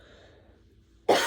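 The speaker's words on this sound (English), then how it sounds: "she really is giving me this cough" A single sharp cough bursts out abruptly at the end after quiet background hum, close and loud.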